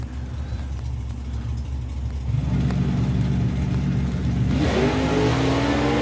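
Vintage Chevy drag cars launching side by side down a drag strip at an FIA/FIM event, engines roaring loud and close, swelling harder around the midpoint as revs climb, with no talk.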